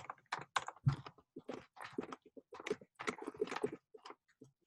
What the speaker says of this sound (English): I'm typing out the question in here.